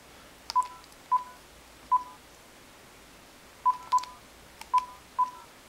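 Telephone keypad tones beep clearly, seven short separate presses at uneven intervals, dialing an 800 number in a quiet room.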